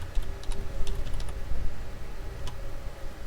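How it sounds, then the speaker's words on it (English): Text being typed on a computer keyboard: quick bursts of light key clicks over a low background hum, close by with no talking. "So now I'm going to use my tab to go over and type in leisure."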